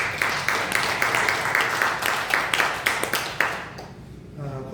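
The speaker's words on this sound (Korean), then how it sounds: "그럼 박수로 우리 감사를" Congregation applauding in thanks during a church service, a dense patter of many hands clapping steadily for about four seconds before fading out, fairly close and loud.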